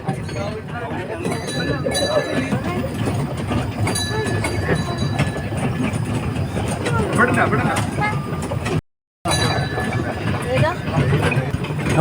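A ride-on train at Mango Meadows agricultural theme park rumbles and clatters continuously up close, with rattling carriages and rhythmic clicks, while voices talk over it and the sound cuts out briefly near the end.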